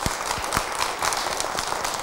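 Studio audience applauding on a TV talk show, steady fast clapping from many hands at close to moderate distance, sustained throughout.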